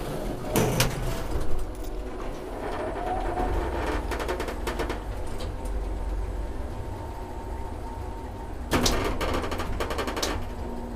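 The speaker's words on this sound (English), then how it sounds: "There goes the door." A Schindler traction elevator's sliding door moving in a lift lobby in Espoo, with a mechanical rattle and clatter that builds, settles into a steady hum, then a sharper clunk near the end.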